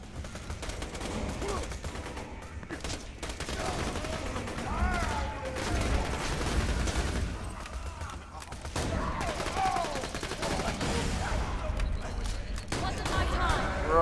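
Gunfire in the video game Borderlands 2, a dense, constant barrage of rapid shots and explosions that runs loud through the whole stretch, with two players talking over it.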